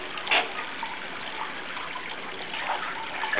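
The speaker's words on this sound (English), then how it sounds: "you get some really nice sounds, gurgling inside the tunnel" Water gurgles and burbles inside a tunnel at a kidney-shaped pool, a steady close wash of liquid sound with small splashy bubbles rising throughout.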